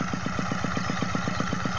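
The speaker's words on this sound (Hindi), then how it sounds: "यहाँ पर जो है वो हैंडमेड ट्रैक्टर, कह ले क्या बोले इसे मिनी ट्रैक्टर" Handmade mini tractor working a rice field in Indonesia, its small engine thumping in a fast, regular beat with clattery overtones, loud and near, no speech.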